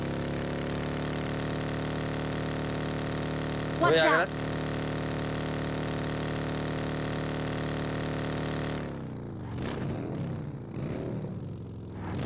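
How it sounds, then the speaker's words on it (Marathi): Motorbike engine in the mobile battle royale game BGMI, a steady droning idle with harmonic hum running for several seconds before cutting off, under short bursts of players talking. "बघी की बाईक आली."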